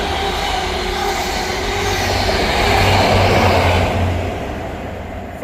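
A ScotRail passenger service from Aberdeen to Edinburgh Waverley runs through Ladybank station without stopping, a steady loud rumble of wheels and engine that swells midway and then fades as it passes.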